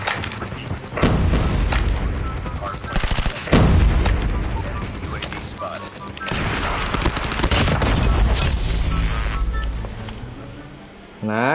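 Bursts of gunfire and booming blasts in a mobile shooter played at legend rank, loud and close, with sharp clustered shots, brief lulls and a high steady alarm-like tone near the end.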